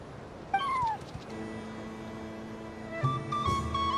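A cat meows in Genshin Impact, two clear rising and falling calls: a short one near the start and a longer one a few seconds later, over soft game background music with no talk.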